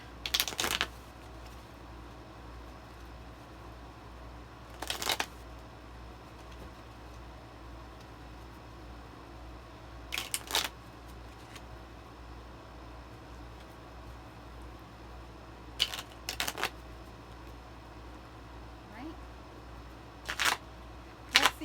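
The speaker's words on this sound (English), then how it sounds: "I'm going to shuffle the cards" Tarot cards are shuffled by hand in a quiet room, giving short soft riffling bursts at roughly regular intervals over a faint steady background hum.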